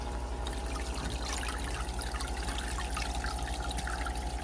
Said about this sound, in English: It's overflowing over here because it's too thick apparently.